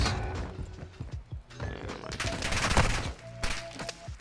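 Rapid gunfire bursts and single shots from the video game Modern Warfare 2 crackle in uneven clusters, loud and busy, with a voice talking faintly underneath at points.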